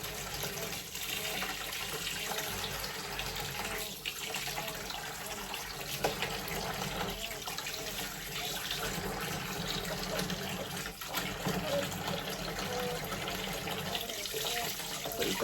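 A bath tap runs into a tub to rinse away soap suds, a continuous close rush of pouring water with no pauses.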